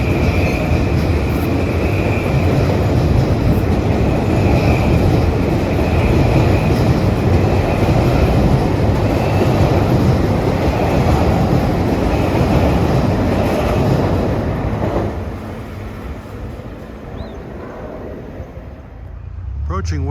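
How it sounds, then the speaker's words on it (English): A Metro-North train from New Canaan to Grand Central rolls westbound past Mamaroneck at evening rush hour. A loud, sustained roar of wheels and cars holds steady, then thins and fades as the train moves away. "This is a new Canaan to Grand Central train."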